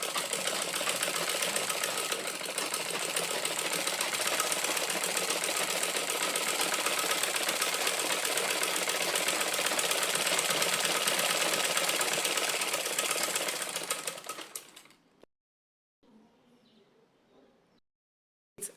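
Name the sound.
sewing machine sewing corset bone channel second time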